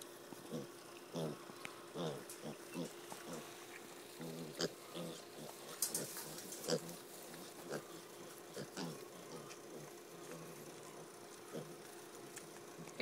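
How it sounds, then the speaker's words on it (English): A pig at a baby animal zoo, giving short, soft grunts and snorts in an irregular scattered rhythm up close, with quiet rustling between them. "Hey, pig."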